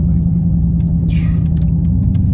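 A Dodge Charger 392 V8 holds a steady low rumble while driving, loud and continuous throughout, with a brief hiss from passing traffic partway through.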